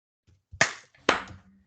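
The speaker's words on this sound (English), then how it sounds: "We gotta do the clap thing" Two sharp, close hand claps from a small group clapping together, spaced about half a second apart, each a crisp smack with a short ring-off, preceded by faint soft taps.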